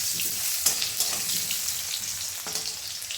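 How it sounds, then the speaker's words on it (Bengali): Potatoes fry in hot oil in a home kitchen, giving a steady, close sizzle with a few sharp crackles and pops and no voices. "আলুগুলো ভেজে নেব"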